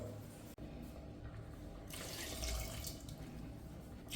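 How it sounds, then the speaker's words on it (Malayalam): Water pours steadily into a pan of Kerala coconut curry, a soft running splash that grows fuller partway through, with no one talking. "ഇനി നമുക്ക് കറിക്ക് ആവശ്യമായ വെള്ളം കൂടെ ചേർത്ത് കൊടുക്കാം"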